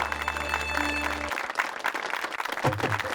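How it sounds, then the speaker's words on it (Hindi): Applause at a family award ceremony in a comedy drama, a short burst of clapping mixed with background music and crowd noise. "तालियां।"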